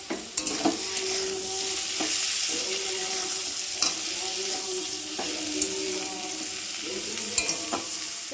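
Spice paste of ginger, garlic and cumin, with chopped tomato and potatoes, frying in oil and stirred steadily; a constant sizzle runs throughout, broken by periodic scrapes and knocks of the spoon against the pan, close and without talking.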